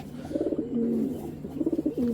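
A pigeon of a green-necked breed coos near at hand, two rolling, throaty phrases with a short pause between them over a faint background hum.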